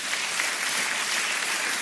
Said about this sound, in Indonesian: Tepuk tangan sama Tuhan Yesus